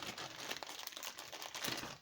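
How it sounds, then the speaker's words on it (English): Rustling and crinkling of craft materials while gluing flowers with a glue gun, a continuous soft papery crackle, close and fairly quiet. "Sorry for the rustling."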